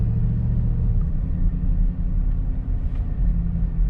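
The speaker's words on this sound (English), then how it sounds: "Now speed humps. Suspension is taking it very, very, very well." A 2020 Mercedes G63 AMG rolling over speed humps, heard from inside as a steady low road rumble and engine drone with slight swells as the suspension absorbs each bump, fairly loud and without voices.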